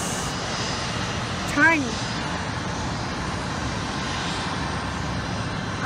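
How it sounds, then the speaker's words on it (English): Aircraft engines drone at an airport, a steady broad roar from planes at a distance, with a brief short remark from a nearby voice partway through. "two airplanes. Then, Air Canada Express."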